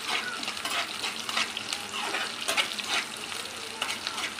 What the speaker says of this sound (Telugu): ఇప్పుడు 2 పచ్చిమిర్చి అండి వేసేసి బాగా ఫ్రై చేసుకోవాలి